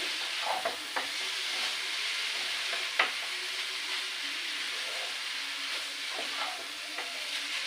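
Chowmein noodles fry in a hot pan with a steady loud sizzle and hiss, and occasional scraping and clinking of the spatula as they are stirred.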